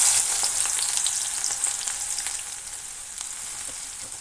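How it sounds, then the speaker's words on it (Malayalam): Sliced onions fry in hot oil for a Kerala-style inji curry for an Onam sadya, a continuous bright crackling sizzle close to the microphone that eases slightly as it goes, with occasional stirring and no talking. "ഇനി ഇതേ എണ്ണയിലേക്ക് നമ്മൾ എടുത്തു വച്ചിരിക്കുന്ന ഉള്ളി കൂടെ ചേർത്ത് ഇതേപോലെ ഒന്ന് ഫ്രൈ ചെയ്തെടുക്കാം."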